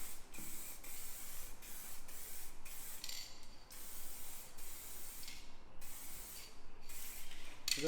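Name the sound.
spray gun spraying a mist coat of paint in crash repair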